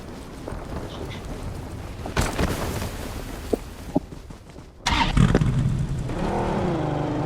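Engine of a buggy in BGMI gameplay on the Erangel map, a rumbling vehicle drone that surges into a loud, steady revving hum in the final seconds, with a few sharp in-game bangs beforehand.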